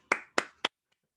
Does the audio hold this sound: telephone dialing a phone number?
no